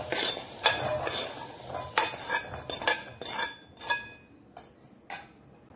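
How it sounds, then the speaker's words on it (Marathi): Cooked chickpeas are scooped out of a hot pan into a bowl, giving close, repeated spoon scrapes and metallic clinks over a faint sizzle, with no voices. "आपण गॅस बंद करूया आणि हे हरभरे एका बाउलमध्ये काढून घेऊया।"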